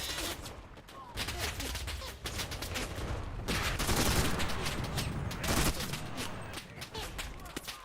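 Sustained gunfire from Enlisted: dense, loud volleys of rifle and machine-gun shots keep going for several seconds, with a few brief lulls and faint speech mixed in.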